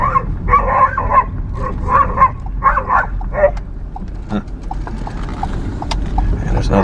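A loose dog on a rural roadside in a poor Mississippi town barks repeatedly in quick bursts at moderate distance, over steady outdoor background noise, with fainter scattered knocks and yips afterward.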